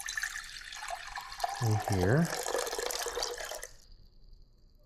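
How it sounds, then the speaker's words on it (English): Filtered water, a measured 420 grams, pours into a container for filone bread dough: a steady close splashing stream runs under a speaking voice, then tapers off near the end. "So we're going to put 420 grams of water"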